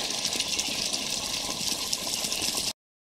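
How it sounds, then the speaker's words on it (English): Spring water gushes out of an old spring box in Shenks Hollow, Shenandoah National Park, a steady loud rushing flow heard close by before it cuts off abruptly. "there's your water flow coming out of the spring box"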